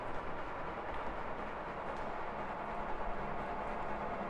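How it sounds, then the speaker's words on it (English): A loud train passes close by as a steady, dense rumble of wheels on rail that holds through the whole stretch with no voices over it. "I'm hearing a train and it's fucking loud, my ears, it's deafening."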